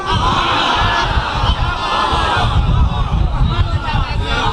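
Audience at a Shia majlis religious gathering in Nankana Sahib shouting back in response, a loud continuous roar of many voices with whoops and chant-like calls filling the whole stretch.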